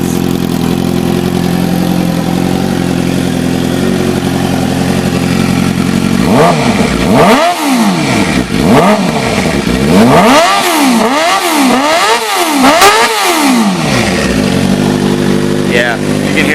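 A 2006 Suzuki GSX-R 600 sport bike with a tuned Two Brothers Black Series exhaust idling, then revved repeatedly in sharp rising and falling bursts, loud and close.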